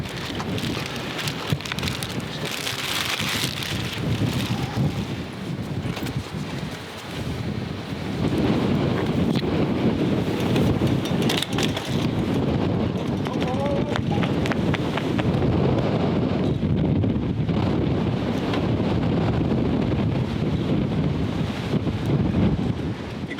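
Blustery, cold wintry wind buffets the microphone over pattering rain on a cycling trip, the gusts rising and falling throughout with no one speaking.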